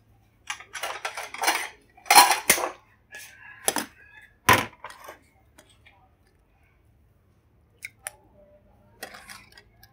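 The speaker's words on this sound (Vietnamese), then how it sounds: "Rồi mình sẽ cho ra tô." Utensils and dishes clink and scrape in short bursts as chayote soup with tofu is ladled into a bowl in a home kitchen, with quieter taps trailing off toward the end.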